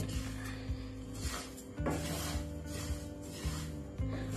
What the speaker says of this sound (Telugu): మాడిపోకుండా కలుపుతూ ఉండండి